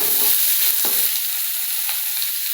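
Urad dal, green chillies, curry leaves and onion fry in hot oil, a steady close sizzle with a few stirring scrapes of the spoon through it, and no voices.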